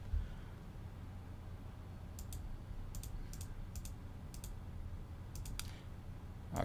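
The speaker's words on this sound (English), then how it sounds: "I'm just clicking here so I can take you through this whole questionnaire" A computer mouse clicks through an online questionnaire for an FAA medical certificate application: a dozen or so crisp, sparse clicks, some in quick pairs, over a low steady room hum with no talking.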